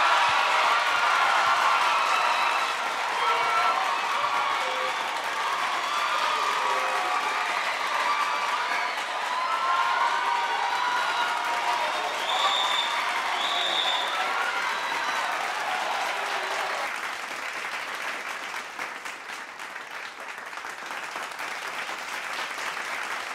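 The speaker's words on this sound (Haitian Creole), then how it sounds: "Je vais demander un gros bravo pour lui." A live television talent-show crowd at a Digicel Stars semi-final in Haiti applauds an artist, with dense sustained clapping and cheering from a large audience that slowly tapers off toward the end.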